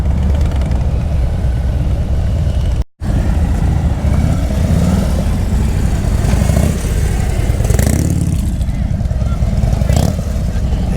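A Honda Gold Wing motorcycle with automatic transmission rides at low speed, its engine a steady, continuous rumble held close throughout, with a brief dropout near the start.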